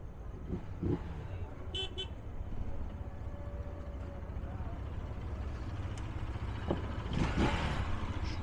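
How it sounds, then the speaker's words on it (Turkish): Distant car horns toot now and then over a steady hum of city traffic in Jaipur, faint and far off, with voices talking nearby. "Burada bile korna sesleri hiç bitmiyor."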